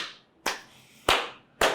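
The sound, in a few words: hand clapping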